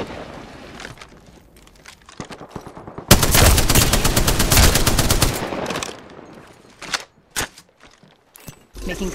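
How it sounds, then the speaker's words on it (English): Bursts of enemy gunfire in Apex Legends Arenas, a long sustained automatic volley in the middle flanked by scattered single shots and short clusters of fire, loud and close, with game sounds between. "They spotted me. I'm taking shots."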